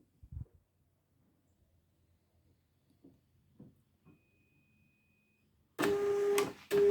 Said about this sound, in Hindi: देखिए प्रिंटिंग स्टार्ट हो चुका है